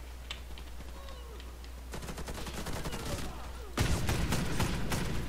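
Bursts of rapid gunfire, including an MK VSS rifle, in the game Warface crackle in dense volleys, growing louder and heavier partway through.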